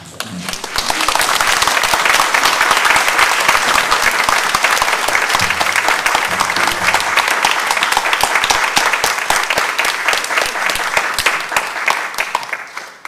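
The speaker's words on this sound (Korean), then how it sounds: "큰 박수로 여러분 환영하시기 바랍니다" A church congregation gives long, steady applause to welcome a missionary to the front. The dense clapping runs for more than ten seconds before it fades out.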